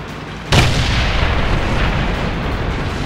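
A tank cannon in a tank battle game fires once with a sudden loud boom, then a long rumbling tail that fades slowly under steady background noise.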